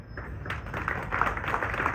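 Audience clapping fills a hall during a Ugandan opposition pre-nomination election speech, a steady, dense round of applause that swells slightly toward the end, with no clear talk over it.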